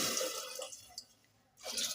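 Water pours into rice in a cooking pot, a soft splashing trickle that breaks off midway and then resumes, close and fairly quiet.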